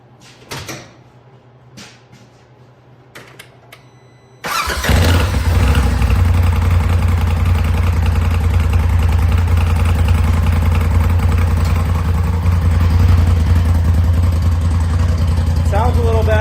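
A Polaris RZR Turbo S with a suspected misfire, freshly fitted with new wires, cranks after a few faint clicks and knocks, then catches into a loud, steady idle with a deep rumble that holds unbroken to the end.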